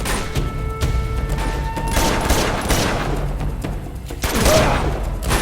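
Gunfire in the video game Uncharted 2, a volley of loud shots and cracks over a rumbling battle backdrop, with a heavier burst of impacts near the end.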